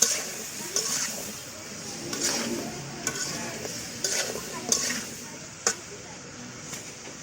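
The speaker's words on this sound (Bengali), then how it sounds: "এখন ভালো করে মশলার সাথে চাল কুমড়া, আলু ভালো করে কষিয়ে নেব।" Ash gourd and potato are fried with spices in a pan, giving a soft sizzling hiss broken by regular scraping knocks from stirring, about one every second.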